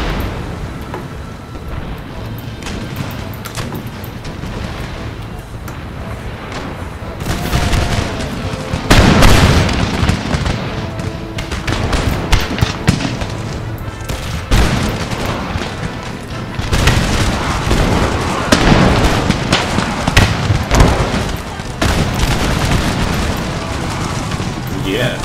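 Organ guns and cannons fire in an Empire: Total War battle, with repeated booming volleys and crackling bursts that swell mid-way into dense, rolling gunfire, while someone talks over much of it.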